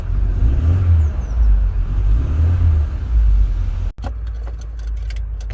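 A faulty car engine, engine management light on, idles steadily with a low rumble, briefly cutting out near the end before settling back into a lighter running hum.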